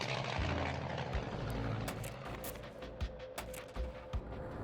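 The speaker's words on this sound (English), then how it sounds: "The plane leaps off the ground" A passenger plane takes off with a loud, steady engine roar that fills the whole clip, with occasional dull thumps and rattles and no voices.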